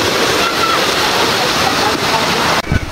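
A waterfall at Grutas de Tonaltongo roars in a loud, continuous rush of falling water, close by and filling the whole stretch, with a brief splashy disturbance near the end.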